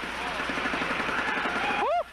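An exoatmospheric kill vehicle's thrusters fire during a hover test, giving a loud, steady roaring hiss with a rapid pulsing flutter underneath. It cuts off abruptly near the end, leaving a rising and falling whistle.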